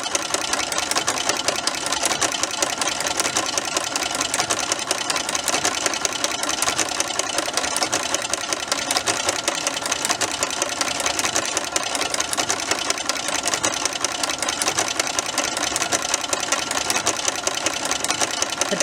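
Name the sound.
Brother sewing machine running with ruffler foot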